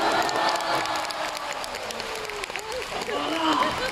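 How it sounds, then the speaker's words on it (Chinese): Audience applause and cheering fill a crosstalk performance hall in Shangqiu, a broad crowd clapping wash with scattered shouts, steady and fairly loud throughout. "平常说完都有掌声的"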